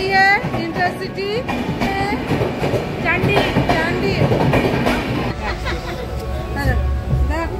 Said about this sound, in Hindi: ट्रेन आ गई है इंटरसिटी